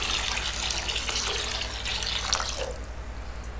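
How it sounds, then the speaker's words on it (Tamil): Water poured into a lentil dosa batter, a steady close stream of splashing that runs for a few seconds and then tapers off. "இப்போ இதெல்லாம் சேர்த்ததுக்கப்புறம் தேவையான அளவுக்கு தண்ணி சேர்த்துக்கலாம்"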